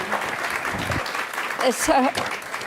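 Applause rises from an audience at a conversation event, a moderate diffuse patter mixed with voices talking over it and a brief higher vocal sound near the end.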